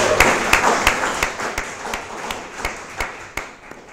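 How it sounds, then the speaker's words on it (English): Audience applause at a Startup Weekend event in Houston, a steady wash of many hands clapping with sharper individual claps popping out, sustained throughout without talk. "So give yourselves another round of applause."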